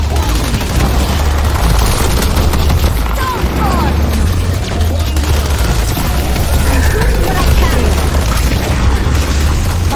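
Rocket launcher fire and explosions from the video game Deadlock form a dense, continuous barrage of booms and bursts with a heavy low rumble running loud throughout.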